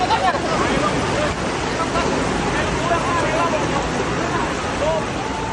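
Floodwater from the overflowing Cisanggarung River in Cirebon rushes through a flooded parking lot full of fallen motorbikes, a steady, loud broadband roar with a faint murmur of voices beneath it.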